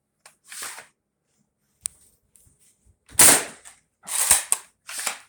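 A Worker Swift foam dart blaster fires several sharp, close pops, each a short burst with a quick snap, spaced unevenly with a cluster near the end and mechanical clicks from handling in the gaps.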